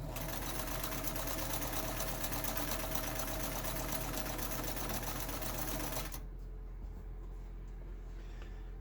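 A Kenmore 158.904 sewing machine stitches a zigzag with a loud, steady rapid mechanical whir and hum for about six seconds, then cuts to a quieter motor drone.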